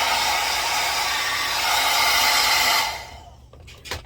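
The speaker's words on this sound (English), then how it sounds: "Sometimes I take my hairdryer" A hair dryer blows on curled hair, a steady loud broadband whoosh for nearly three seconds before it cuts off, followed by brief faint handling sounds.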